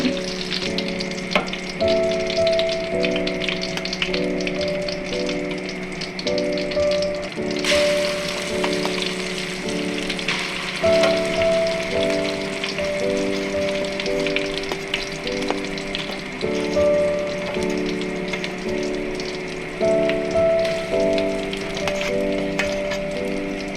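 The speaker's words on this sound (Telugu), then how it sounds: "జింజర్ గార్లిక్ పేస్ట్ని ఫ్రై చేసుకుందాం." Ginger garlic paste frying in a pan crackles and sizzles continuously, loud and close, with stirring scrapes and a repeating tonal hum running underneath throughout.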